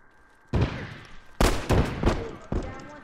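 Loud rifle shots crack out in The Last of Us, a single report followed by a quick cluster of three or four more, each sharp and close, with voices nearby.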